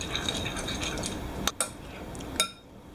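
A spoon stirs creme fraiche with salt and lemon juice in a dish, making soft scraping sounds broken by a few sharp clinks against the bowl, close and fairly quiet.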